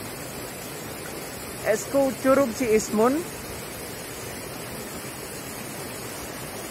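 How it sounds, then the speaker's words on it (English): A steady broadband roar of a waterfall at Cibodas Botanical Gardens fills the whole stretch at an even level. Someone speaks briefly over it partway through. "And finally, we've arrived at the waterfall."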